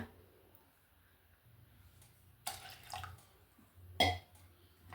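Water poured into a pot for a horse gram sprout broth, in two brief splashing bursts, close by, against an otherwise quiet background.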